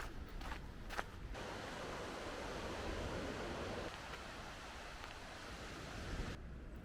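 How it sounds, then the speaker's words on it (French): High-tide sea waves roll onto a beach in Brittany as a steady, broad wash of surf, with some wind buffeting the microphone; no voices. "La mer est méga haute, on entend d'ici les vagues."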